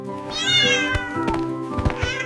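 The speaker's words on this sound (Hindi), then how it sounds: "ये है C से कैट। देखो कितना प्यारा बिल्ली का बच्चा है" A kitten meows repeatedly in a high, close voice. Steady music plays beneath the cries.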